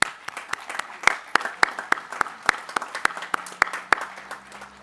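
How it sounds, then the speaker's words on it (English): Scattered applause at a high school graduation ceremony: individual hand claps ring out in an uneven, fairly sparse rhythm, moderately close, without cheering or talk. "Give yourselves a big round of applause."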